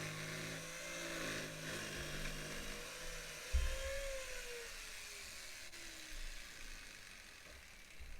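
A power tool cuts along the edges of a wooden skateboard deck to build a stool, a steady high whine with a tone that slides downward midway, fairly quiet and continuous.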